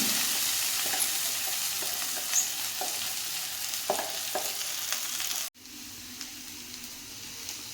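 Winged bean leaves frying in a hot pan, a dense close sizzle with recurring scrapes and taps of a spatula, then the sizzle drops suddenly to a quieter, steadier hiss for the last couple of seconds.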